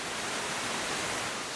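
Rushing water from a waterfall pours in a dense, steady broadband roar, loud and close, with no other sounds.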